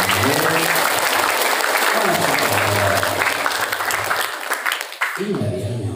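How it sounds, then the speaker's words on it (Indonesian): A crowd of pesantren students claps loudly at a motivational seminar, with voices speaking and calling out over the applause, which thins briefly near the end before picking up again. "Tepuk tangan buat saya."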